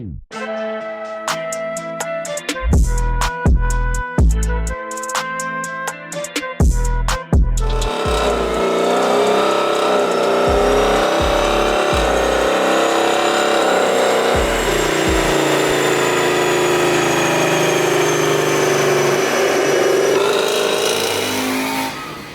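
A twin-turbo Ford Mustang GT engine revs through its first full pull, opening with rhythmic thumping before building into a loud, sustained roar that holds steady for about fifteen seconds without talk.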